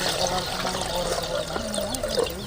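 Water splashes and pours steadily into a cooking pot, a continuous liquid rush with faint background noise throughout.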